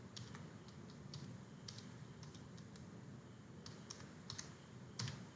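Faint, irregular bursts of key clicks come from a computer keyboard while someone codes in VS Code, with steady background hiss and no talking.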